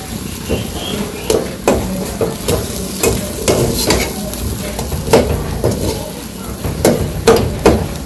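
Pitalu with banana flower and ginger paste being stirred in a pan, a Bangladeshi village dish; a spatula scrapes and knocks the pan in steady repeated strokes over a soft sizzle.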